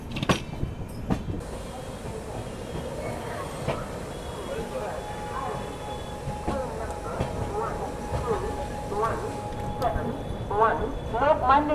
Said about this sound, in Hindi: अपनी ट्रेन यहाँ पे एंटर हो रही है अभी भोपाल जंक्शन रेलवे स्टेशन पर